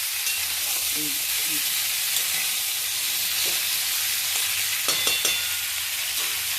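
Potatoes and drumstick stalks fry in a pan, giving a steady broadband sizzle throughout with a few soft stirring clicks and scrapes near the end, close and continuous with no talk.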